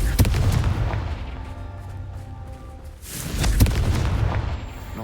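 Confringo fire spell explosions in Hogwarts Legacy, two heavy booming blasts about three seconds apart, each with a sharp crack followed by a deep rumbling decay, loud and close, with no talking.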